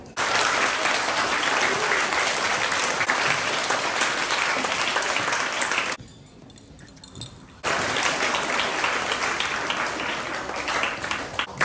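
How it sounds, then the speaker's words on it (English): Loud, sustained applause from a large crowd of school students at a presentation day, briefly dropping off partway before the clapping resumes at full strength. "Students, a round of applause."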